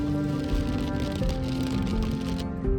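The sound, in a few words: monsoon rain during a road trip to Lonavala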